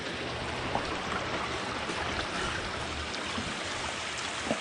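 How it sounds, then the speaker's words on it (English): Water from a 2,000 gallon pump rushes through a gold cleanup sluice in the rain, a steady close wash of splashing and trickling with no voices. "You can see the water's flowing. It's kind of swirling around there."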